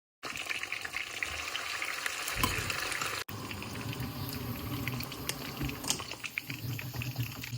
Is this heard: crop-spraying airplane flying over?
no